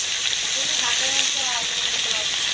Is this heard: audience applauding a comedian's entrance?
no